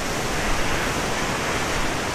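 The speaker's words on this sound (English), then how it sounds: "you can probably hear the waves in the background." Waves wash steadily along the Lake Superior shore in sub-zero cold, a continuous broadband surf roar with no distinct breaks, close and fairly loud, with no voices.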